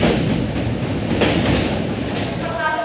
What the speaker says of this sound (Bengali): এই আমার ট্রেনটা ছেড়ে দিচ্ছে।